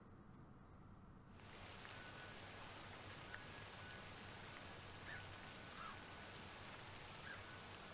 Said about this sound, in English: Was it always raining in that room?